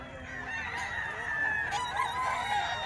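Gilmore hatch gamefowl roosters and chickens crow on a farm, a steady run of overlapping calls carrying on without pause and with no talking.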